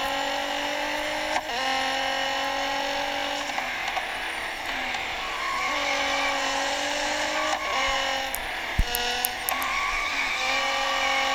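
Red Bull race car in a racing video game, engine droning steadily with tonal whine that drops and rises as the car slides, with short skid bursts and clicks throughout, no talk.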